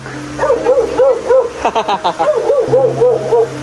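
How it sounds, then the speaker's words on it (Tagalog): A dog barks repeatedly in quick, yelping bursts, close and loud, with a steady hum underneath. "Yung aso baka makawala."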